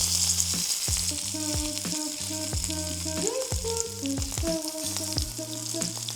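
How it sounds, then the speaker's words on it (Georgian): Steak searing fat-side down in a hot pan on an electric stove, a loud continuous sizzle and crackle of rendering fat, with no talking. "ეხლა დრო მოვიდა რომ შევწვათ ჩვენი სტეიკი"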